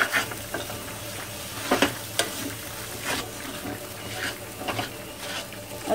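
Moong dal roasting in ghee in a kadhai, a continuous close sizzle broken by repeated scraping stirs of the spoon against the pan at an uneven rhythm.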